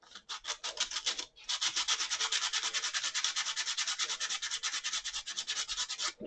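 Dry sandpaper rubbing back and forth in a steady, rapid rhythm, close and raspy, with one brief pause near the start and no talking.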